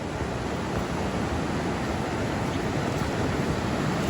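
Evelyn Creek flowing beside a bridge on a forested mountain trail, a loud, steady broadband rush of water that carries on unbroken throughout.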